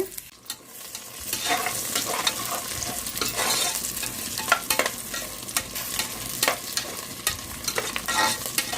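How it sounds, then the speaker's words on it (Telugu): Green chilies and chopped onions fry in hot oil in a pan, a constant close sizzle broken by repeated scraping and clacking from stirring, with no voices. "ఇప్పుడు పచ్చిమిర్చి ఉల్లిపాయలు వేసుకుందాము ఇవి బాగా వేగిపోవాలి"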